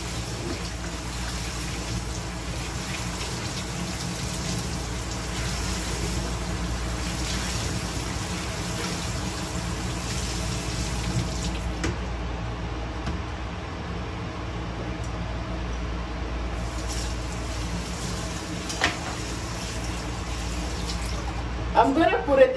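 Tap water runs steadily into a bowl set in a kitchen sink while cocoyam is being washed, a continuous broadband rush at even loudness throughout, with a brief clatter near the end.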